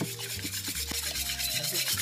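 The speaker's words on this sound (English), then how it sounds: "Add our eggs, whisking all the while, if we don't want to have scrambled eggs." A whisk scrapes in quick, steady strokes as eggs are beaten in a pan on an induction hot plate, making a close, continuous rasping rub with no talking.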